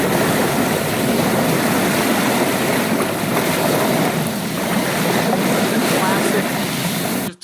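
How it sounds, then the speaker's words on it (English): Ocean waves wash continuously over sand and rocks, a loud, steady broadband rush without distinct breaks that cuts off abruptly at the end. "Classic ocean waves, hitting the sand, hitting rocks, hitting the beach."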